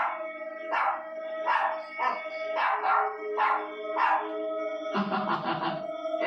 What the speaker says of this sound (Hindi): तभी टफी घर से बाहर निकलता है और चुड़ैल को देखकर भौंकने लगता है।